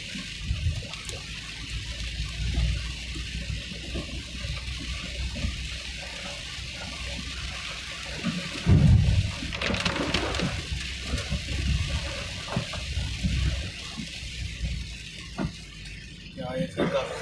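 Rain and running water heard from inside a car driving through winter rain between Haldwani and Bazpur, a steady wash of splashing water under continuous road noise with speech over it.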